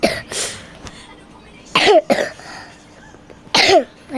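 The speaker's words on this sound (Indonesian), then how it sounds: "Lagi batuk guys" Several harsh, raspy coughs come close to the mic in separate bursts, with quieter breathing and throat noise between them.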